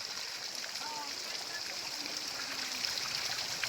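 A clear stream flows steadily, with a soft continuous rush of water under faint background sounds at a moderate distance.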